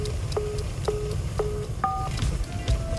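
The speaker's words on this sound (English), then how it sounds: "Why am I hearing phone sound?" Synthetic phone keypad tones in the video game Wanderstop beep in a quick series of short, evenly spaced pulses, followed by a pair of longer dual tones over a low background hum.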